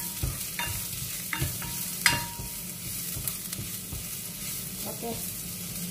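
Small onions fry in a pan and are stirred constantly, giving a steady close sizzle broken by repeated spoon scrapes and clinks against the metal, with one sharper knock midway and no talking.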